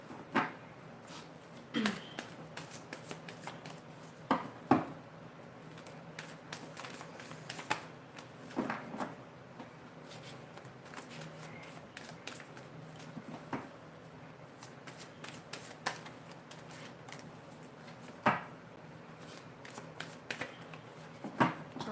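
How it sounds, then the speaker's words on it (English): Tarot cards being shuffled by hand, soft riffling and sliding in repeated bursts with sharper snaps and taps scattered throughout, close and quiet against a faint room hum. "So I do have a bit of a process when I shuffle"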